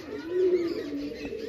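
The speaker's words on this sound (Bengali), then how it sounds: "আরশাদ লাইনের নর আছে, আরশাদ লাইনের নর আছে, খুবই ভালো কোয়ালিটির পায়রা" Fancy domestic pigeons in a home loft collection give a low, steady, purring coo that runs without a break, fairly close and moderately loud, with no talking over it.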